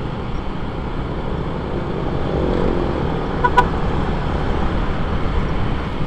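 A car passes along a road beside the Marikina riverbank, a steady low rumble of traffic with a brief sharp high tone near the middle, no voices.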